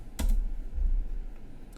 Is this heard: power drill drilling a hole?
no